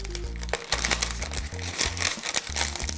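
Close, dense crinkling and rustling as a paper cone for chocolate decorating is torn and handled, with a few sharper rips over a low steady hum and no talking.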